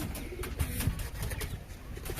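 Pigeons coo nearby over a busy background of rustling and soft wing flutters.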